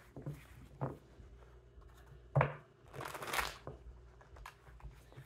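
Tarot cards shuffled in a few short, soft bursts of riffling and patter, with a longer rustling flurry near the middle, fairly quiet and close with no talk.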